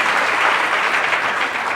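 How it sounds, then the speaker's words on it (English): Audience applause for Maya at an evening event with actress Lynn Whitfield, a dense steady wash of clapping that stays loud and even from start to finish. "So let's give her another round of applause"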